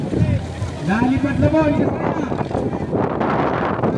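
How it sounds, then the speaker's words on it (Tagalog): Strong wind buffets the microphone during a Batangas bangka boat race at Talisay, a steady broadband roar over big waves with someone commentating loudly throughout. "malakas na hangin"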